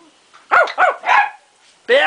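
Several dogs bark in a quick run of three loud, close yaps, then a pause and another sharp bark.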